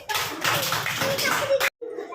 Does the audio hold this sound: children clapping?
yes